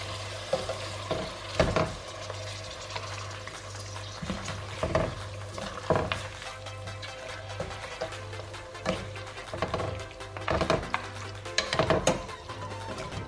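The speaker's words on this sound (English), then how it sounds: "give that a stir." A spoon stirs green chili paste in a pot over medium heat, giving repeated scraping strokes at an uneven rhythm over a soft, steady sizzle and a low background hum, close by with no talking.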